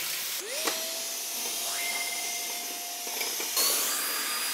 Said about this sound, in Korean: 청소기 돌리네.